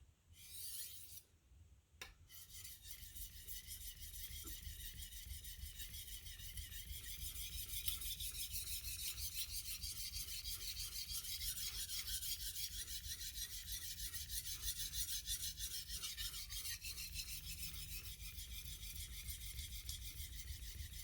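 A knife blade is rubbed steadily along a sharpening stone, a faint continuous grinding rasp lasting throughout after a brief quiet start, without any talking.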